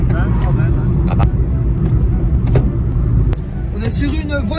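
A Peugeot 206+ with its small 60 hp engine drives along, a low steady rumble of engine and road noise heard from inside the cabin, with a few sharp clicks and a voice talking over it.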